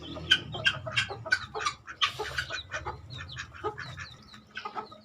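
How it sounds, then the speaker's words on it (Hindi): Chickens cluck repeatedly at close range, with high chirps from baby chicks mixed among the hens' bursts of calls in an irregular, busy rhythm. "छोटे जो बेबी चिक्स हैं, बाहर खुद ही निकल आते हैं"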